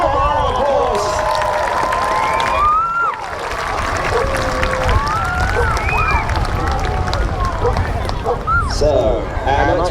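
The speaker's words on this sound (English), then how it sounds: "Let's give him a proper round of applause." Crowd applauding and cheering at a jousting event at Pendennis Castle, sustained clapping under excited voices and calls, fairly loud and continuous, with people talking over it.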